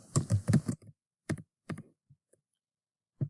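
Close typing on a computer keyboard: a quick burst of clattering keystrokes followed by a few isolated clicks separated by silence, with no talking.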